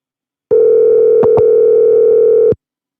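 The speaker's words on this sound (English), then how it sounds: "Answer the phone, dude." A telephone call tone sounds as a single steady electronic hum for about two seconds on an unanswered call, loud and clean against silence, briefly broken by two small clicks.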